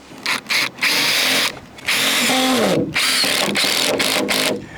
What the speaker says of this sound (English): the first thing I'm going to do is actually screw these sister joists together